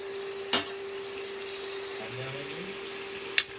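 Prawns go into okra frying in a pan, a close, steady sizzle with two sharp clatters of a utensil and a faint low scrape between them, and no talk.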